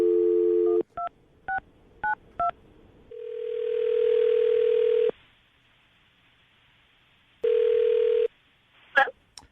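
A telephone call being placed: a steady dial tone, a quick run of touch-tone dialing beeps, then long ringback tones separated by silence, with a brief click and chirp as the line connects.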